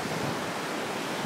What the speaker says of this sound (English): here are the waves